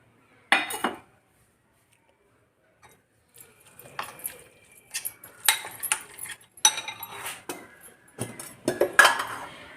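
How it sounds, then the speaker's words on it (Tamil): Fish 65 marinade being mixed by hand in a bowl with salt and chopped curry leaves, giving soft close clinks, taps and wet scraping in uneven bursts after a brief opening knock and a quiet pause. "இதை எல்லாத்தையும் சேர்த்து இப்போ நல்லா கலக்கிடுவோம்."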